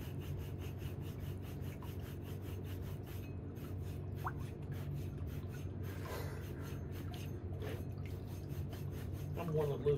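A nail file rasps back and forth across a split toenail, a fast, steady scratchy sawing rhythm heard up close and continuous, with faint background noise and a brief sound late on.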